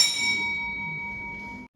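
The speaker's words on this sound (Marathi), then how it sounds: "हे प्रेस बटन दाबले की बेल अशी वाजते" An electric bell on a push-button circuit, shown during an engineering students' industrial visit, gives a bright metallic ring that sustains and fades over about a second and a half before stopping abruptly.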